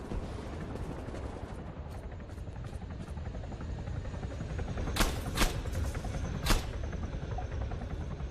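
A helicopter in the military shooter game Arma 3 whirs steadily with a constant rotor drone, while a few sharp gunshots crack over it near the end.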